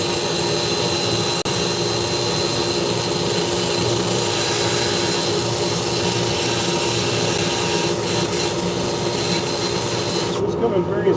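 Abrasive grit pads sand a turned wood piece on a running lathe, giving a continuous rubbing hiss over the steady motor hum that stops abruptly near the end.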